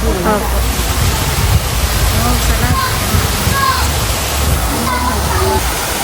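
A wide waterfall roars in a continuous, loud rush of falling water close by, with people talking over the steady noise.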